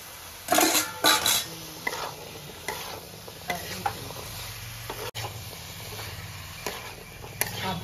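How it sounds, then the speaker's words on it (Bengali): Kabuli chickpeas tip into a curry pot of spices and yogurt for chhola, giving a few clattering drops and stirring scrapes over a soft sizzle, with gaps between the bursts. "ছোলাগুলো দিয়ে দিচ্ছি"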